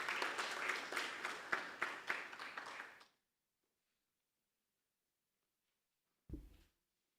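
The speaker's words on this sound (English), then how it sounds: "Let's give them a round of applause." An audience at a campus safety launch event applauds with about three seconds of dense, steady clapping. It stops abruptly into silence, followed by a single brief thump.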